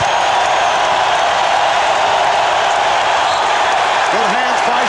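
A packed arena crowd at Game 5 of the 1996 NBA Finals between the Chicago Bulls and Seattle SuperSonics keeps up a loud, continuous roar, with a voice briefly audible near the end.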